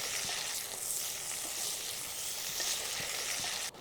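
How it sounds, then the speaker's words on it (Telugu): Green chillies fry in a pan for a village-style tomato chutney, a continuous bright sizzle with faint crackles and a soft scrape or two, steady and close, no voices. "ఒక ఐదు నిమిషాలు పచ్చిమిరపకాయలని ఈ విధంగా వేయించుకోవాలి"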